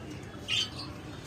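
A single short, sharp squawk from a king quail, heard once near the middle against a low steady background hum.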